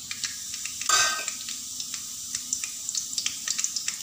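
Urad dal and chana dal dropped into hot oil for tempering, a brief loud burst of spatter followed by a steady crackling sizzle and light stirring scrapes.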